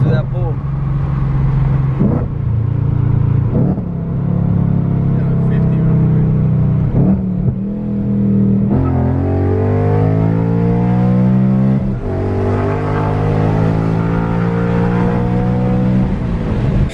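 A tuned car pulls hard under acceleration. The loud engine note climbs steadily in pitch, breaks briefly at several gear shifts and then climbs again, close and continuous throughout.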